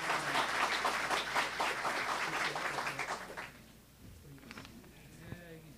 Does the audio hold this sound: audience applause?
yes